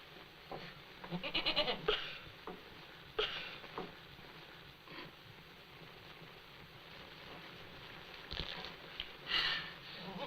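A goat bleats several times in short, faint calls spread across the clip, with quiet shuffling between them.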